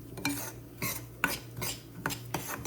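Semolina roasting in ghee in a pan over medium heat, stirred with a utensil in a series of sharp scraping strokes at irregular intervals, close and alone without talk.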